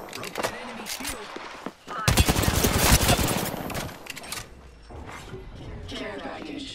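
Automatic weapon fire in the video game Apex Legends, a dense rapid burst of loud gunshots in the middle, with scattered shots and mechanical clatter before and after.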